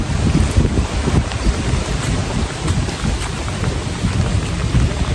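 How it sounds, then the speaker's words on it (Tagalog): Heavy rain pours steadily, a dense, loud roar of drops hitting surfaces throughout, with no voices. "Kala ko hindi malakas ang ulan."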